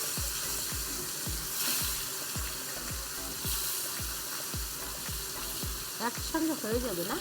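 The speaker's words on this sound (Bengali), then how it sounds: "তেলটা গরম হয়ে গেছে, এখন মাছগুলো এক এক করে দিয়ে দেব।" Fish frying in hot oil in a pan for a Bengali poppy-seed fish dish, with a loud continuous sizzle and repeated rhythmic scraping strokes; a voice is heard briefly at the end.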